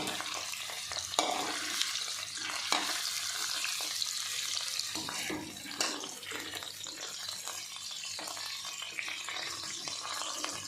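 Paneer cubes, onions and green chillies shallow frying in a pan for kadai paneer give a steady sizzle, broken by scraping stirs and occasional clinks, with no voices.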